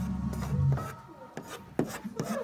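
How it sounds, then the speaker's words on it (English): A spatula scrapes excess putty off a patched wall during a shiplap installation, giving a few short rasping strokes in a steady rhythm, close and fairly loud, with no talking. "So I have finished shaving off the excess putty on the wall"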